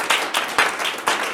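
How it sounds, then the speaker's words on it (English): A small gathering at a leadership meetup gives the speaker a short round of applause, a brief burst of clustered hand claps with a few distinct strikes. "Very good round of applause"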